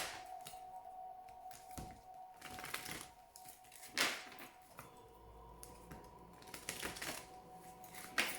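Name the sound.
shuffling oracle cards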